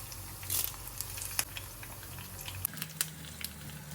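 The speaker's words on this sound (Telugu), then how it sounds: "తాలింపు కోసం ఆయిల్, పోపు సామాన్లు వేసుకుని కొద్దిగా వేగిన తర్వాత garlic and red chilli pieces, curry leaves" Curry leaves, garlic and red chilli pieces sizzle in hot oil for a mango pickle tempering, a faint steady frying hiss broken by scattered sharp pops and spits, with no talking.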